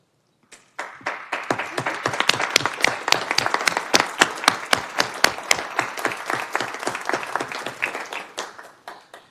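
Applause breaks out at a commission meeting: a smaller group claps in distinct, fairly close individual claps that build quickly, keep a lively uneven rhythm, then thin out and stop, with no talking.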